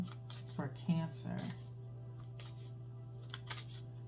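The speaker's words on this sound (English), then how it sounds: "I'm going to do a hard shuffle here" Tarot cards being hard-shuffled give a few quick riffling, slapping bursts up close, with soft talk between them.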